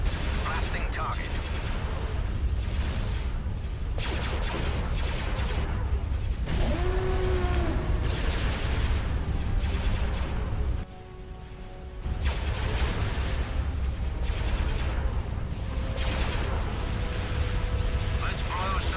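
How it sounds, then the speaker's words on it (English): Blaster cannons fire during a space battle in the real-time strategy game Star Wars: Empire at War, with repeated heavy blasts and booming impacts against a dense battle din, while voices speak over the action. "Locking on target. Blasting target."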